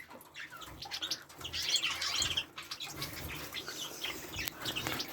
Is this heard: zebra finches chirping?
yes